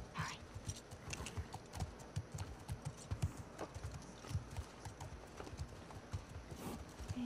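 Horse hooves clip-clop steadily in The Last of Us Part II video game, a continuous rhythmic trot of several horses heard close up at low level, with no talk over it.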